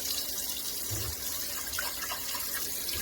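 Steady running water from a tap while a soap pad scrubs light rust off a cast iron pan, a continuous splashing wash with faint scrubbing scratches throughout.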